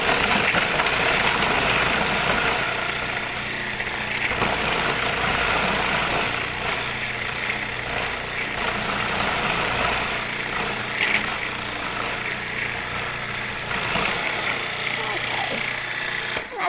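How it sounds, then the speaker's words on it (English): A kitchen appliance grinds dates for a chocolate snack mixture, a loud, continuous whirring roar that holds steady through the whole stretch, with a voice speaking faintly beneath it. "So just going to go ahead and grind those up."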